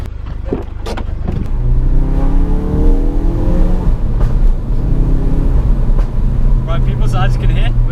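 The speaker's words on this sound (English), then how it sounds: "as you can hear, we're in the Focus RS now. Pretty loud car" A 2017 Ford Focus RS engine revs and pulls loudly from inside the cabin while driving, a steady rising drone with shifting tones and a voice talking over it.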